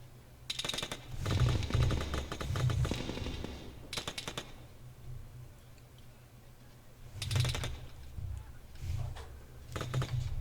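Gunfire from the ARMA 3 military video game, a run of bursts and single shots coming in clusters with gaps between them, fairly loud.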